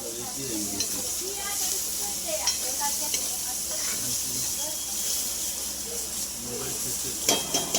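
Two onions and a tomato frying in oil, a steady close sizzle and hiss with occasional stirring scrapes and a few louder pops near the end, while a voice speaks faintly underneath.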